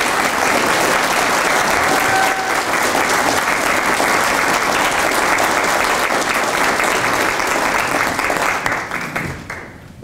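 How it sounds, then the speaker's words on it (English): A large ceremony audience applauds medal recipients at a Platinum Jubilee medal presentation, with sustained, dense clapping that holds steady for most of the stretch before fading near the end. "And let's have one big giant round of applause for all of the recipients."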